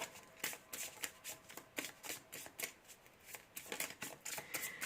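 Moonology oracle cards are shuffled by hand to draw one, a rapid series of crisp riffling bursts, close and fairly quiet, with no talking.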